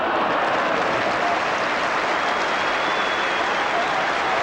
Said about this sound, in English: Generous applause from the Norwich fans as well as those of Liverpool.